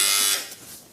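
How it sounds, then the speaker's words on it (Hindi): A buzzer is pressed on the Bigg Boss OTT reality show, giving a bright electronic tone that holds for about a third of a second and then fades away. "सबसे पहले आपको बजर प्रेस करना था"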